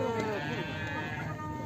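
Sheep bleat at a livestock market in northern Syria, a close, steady bleating cry with crowd noise and people talking underneath throughout.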